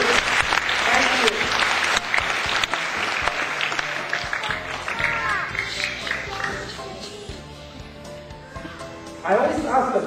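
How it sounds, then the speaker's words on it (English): Clapping from an audience of children at a storytelling acting performance, continuous and fairly loud at first, then thinning and fading before a voice returns at the end. "You clap for me."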